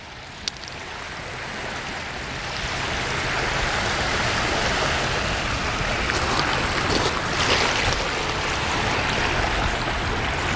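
Water of the Mississippi River rushing past Chouteau Island, a broad steady roar and hiss that swells after a couple of seconds and stays loud and continuous, with occasional splashes and no voices.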